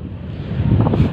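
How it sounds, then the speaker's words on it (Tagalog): Strong wind buffets the microphone on a trip near Santo Domingo: a continuous low rumbling roar that swells slightly toward the end, with no talking. "So ngayon mahangin dito."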